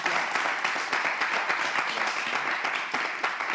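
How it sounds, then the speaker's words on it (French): Steady, dense audience applause from a live French show, continuous clapping from many hands holding at an even level throughout without any talk over it. "est-ce qu'on peut applaudir, s'il vous plaît?"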